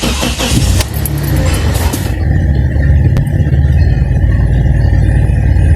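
Toyota Fortuner engine running after a head gasket repair, a loud, steady close-up idle rumble that starts with a brief higher-pitched burst and then settles into an even drone.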